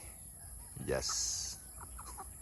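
Native chickens and Rhode Island Reds cluck and call in a coop, including one loud drawn-out cry followed by softer clucks, over a steady background hum and a brief spoken word.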